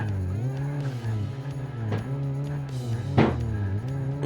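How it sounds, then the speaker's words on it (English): A car engine in the video game Dream Car Builder held on the rev limiter while rock crawling, a loud buzzing drone that bounces in pitch with brief crackling bursts, close and continuous. "Just standing on the rev limiter."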